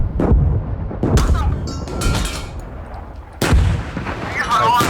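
Frag rounds and artillery firing in the PC video game Gunner Heat, a series of five loud, heavy booms spaced about a second apart, each with a rumbling tail.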